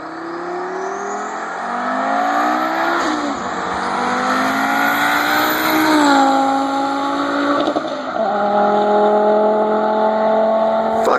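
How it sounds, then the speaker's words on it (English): A Porsche 944 fitted with an Audi 07K 2.5-liter five-cylinder engine revs hard and close, pitch climbing and dropping through several loud sweeps with a raspy, continuous tone. "being a 5-cylinder, it makes the most glorious noises."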